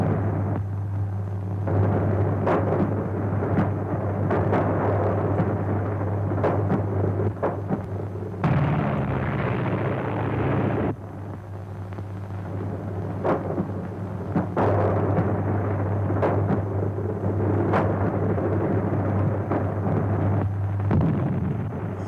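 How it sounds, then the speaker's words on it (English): An aerial torpedo exploding against an airship in a serial adventure, a long roaring, rumbling blast that stays loud and churning for over twenty seconds with a brief shift in texture midway, no voices. "Dispatch an aerial torpedo at once, guide it to the airship's destruction."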